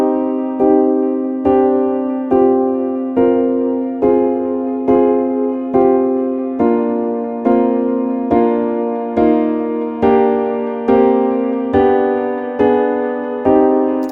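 A keyboard plays a slow, sad minor chord progression with suspended chords, each sustained chord struck again at a steady pulse of roughly one per second, loud and alone.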